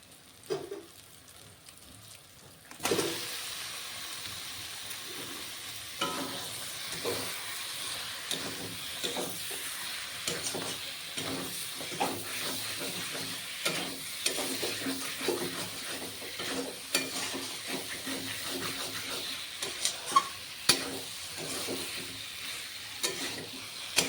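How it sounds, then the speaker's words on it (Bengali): Country chicken meat tipped into hot, oil-released spice paste with whole garlic, becoming a steady close frying sizzle after a quiet start, with repeated stirring scrapes and clinks throughout. "এখন আমি মাংসটা ঢেলে দেবো"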